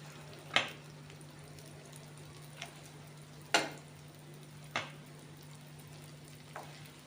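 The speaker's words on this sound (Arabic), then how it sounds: "العوامل لازم تنقلي مرتين، المرة الأولى وسط والمرة الثانية تتقرمش" Awama dough balls made with a yeast-and-yogurt dough frying in hot oil: a soft continuous sizzle runs throughout, broken by four or five sharp pops and crackles spaced a second or more apart.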